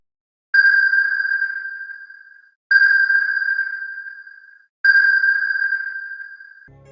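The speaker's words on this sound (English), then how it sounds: "But then the worst thing about submarines, the sonar." Submarine sonar pings, three loud, pure electronic tones, each struck sharply and then ringing out for about two seconds before fading, evenly spaced with silence between, no talk.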